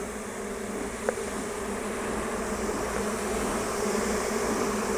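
Honey bees hum at a hive in a garden, a soft continuous buzzing drone with one brief tick near the start and no voices.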